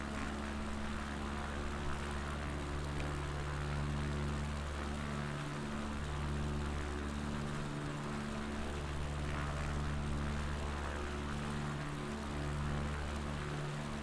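A propeller plane engine in Flight Simulator 2020 during a descent on a Patagonia bush trip, a steady droning hum with layered low tones that waver slightly in pitch, continuous and close, with no talk.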